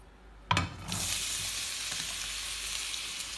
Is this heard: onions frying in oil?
yes